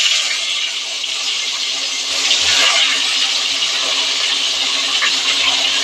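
Pieces of koi fish (climbing perch) go into well-heated oil in a kadai, giving a loud, steady, close-up sizzling hiss that stays continuous for the whole stretch.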